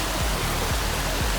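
Water from six jets in a koi pond churns and rushes steadily toward a skimmer box, a close, dense wash of noise with faint rhythmic pulses.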